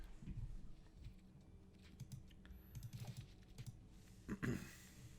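Quiet, rapid clatter of fingers typing on a computer keyboard, in irregular bursts of keystrokes with short pauses, faint and close, with no talking.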